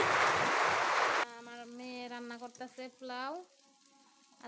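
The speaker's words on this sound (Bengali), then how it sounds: "চাউলটা ভাজা হবে চাউলের সঙ্গে আর একটু ভাজা হবে পেঁয়াজগুলো" Rice and onions for pulao fry in a pan with a loud, dense sizzle for about a second. The sizzle cuts off abruptly and a voice starts speaking.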